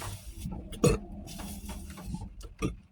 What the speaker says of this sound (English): Gotta let the burp out first.